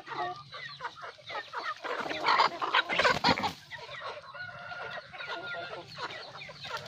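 Chickens on a Vietnamese farm cluck busily and crow during an afternoon feeding, a dense close flock chorus with a louder burst of calls in the middle.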